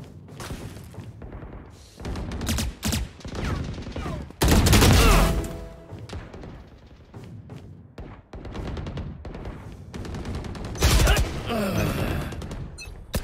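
Phantom rifle fire in Valorant comes as bursts of rapid shots, with a loud cluster of gunfire in the middle and another burst near the end, mixed with game thumps and light background talk.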